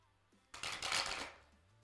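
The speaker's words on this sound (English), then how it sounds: "I'm going to shuffle real quick." A tarot card deck is shuffled once in a quick riffle, a close, soft papery rush lasting under a second with no talking.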